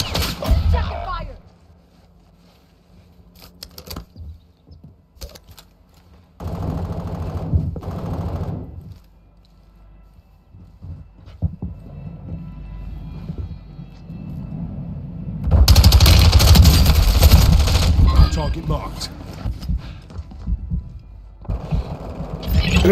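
Call of Duty Plunder gameplay fills with bursts of automatic gunfire, loud stretches of sustained shooting alternating with quieter lulls, while a player talks over parts of the action.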